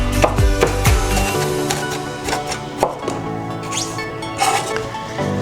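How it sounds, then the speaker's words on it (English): A knife dicing onions and bell peppers for a Cajun chicken pasta, with quick close chops on a cutting board at the start, then sparser taps and kitchen clatter, and no talking. "I am dicing my onions and my bell peppers for this meal"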